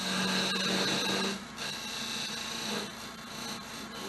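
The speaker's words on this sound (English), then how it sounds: "Now I'm going to take my skew chisel back here and define the spot where I'm going to part it off." Skew chisel cutting into wood spinning on a lathe, a continuous close, rough scraping and whirring hiss with a brief change in tone partway through, no talking.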